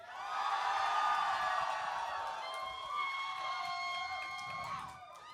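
A live show crowd at Reggies cheers and whoops continuously, loud at first and gradually thinning, with scattered shouts standing out near the end.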